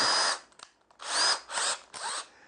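A spade bit is used on wood braced on a bench hook with sacrificial plywood, giving three short, close bursts of power-drill whine separated by brief pauses.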